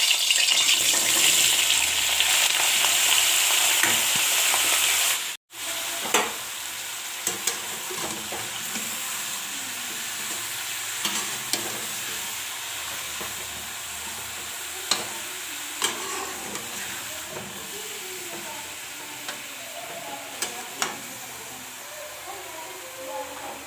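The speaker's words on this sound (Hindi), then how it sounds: "अब हम इसमें डाल देंगे आलू बैंगन और उनको हल्की आंच पर 5 मिनट तक फ्राई करेंगे।" Potatoes and eggplant fry in hot oil over a low flame, a continuous close hiss and sizzle dotted with sharp pops and occasional stirring clicks, with one brief cut-out near the start.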